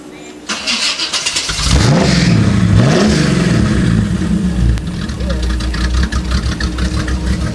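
A hot rod engine at a mountain cruise-in revs loudly and close, rising and falling in pitch as more gas is given, then settles into a rough, throbbing idle, with people talking over it.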